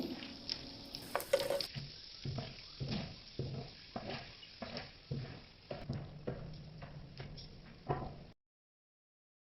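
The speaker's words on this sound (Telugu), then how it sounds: "నూనె వేడెక్కాక ధనియాలు జీలకర్ర వేసి దారగా ఫ్రై చేయండి" Coriander seeds and cumin sizzle in hot oil, with a steady frying hiss and regular scraping stirs roughly every second, close and clear, ending abruptly.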